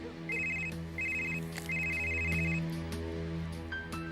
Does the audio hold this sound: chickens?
no